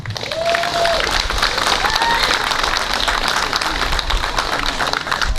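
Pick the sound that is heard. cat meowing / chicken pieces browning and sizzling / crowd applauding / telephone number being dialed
crowd applauding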